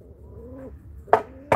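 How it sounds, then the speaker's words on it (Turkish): Crested Iraqi pigeons coo close by, with a soft low rolling call and a second coo a moment later, broken by two sharp bursts of wing flapping. "Çok güzel kuşlar."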